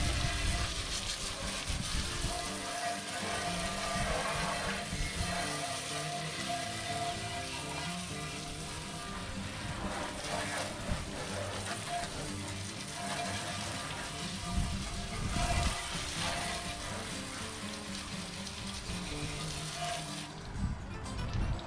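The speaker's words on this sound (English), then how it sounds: "Gonna give it a quick rinse." Water streams steadily, rinsing acid cleaner off the chrome grille of a 1950 Buick. It makes a continuous splashing hiss for about twenty seconds, fairly close, and cuts off near the end.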